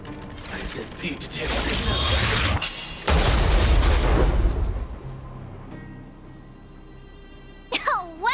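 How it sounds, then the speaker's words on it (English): An automaton stealth bomb detonates in Honkai Star Rail, a loud booming blast with crackling mechanical debris that swells for several seconds and then fades, followed by a short burst of voice at the end. "We wiped them all out in a single explosion!"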